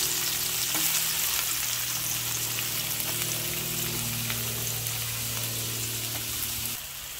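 Loud, steady sizzling of green and red chilies dropped into octopus simmering in coconut milk, a dense frying hiss with a faint low hum, easing slightly near the end, no talk.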